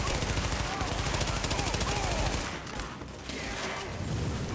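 Rapid automatic gunfire in The Division video game as a crate is shot, a dense, loud, continuous rattle of shots that briefly dips before resuming.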